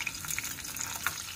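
Quiet, steady sizzle of chillies frying in hot ghee, with faint crackles and pops close by.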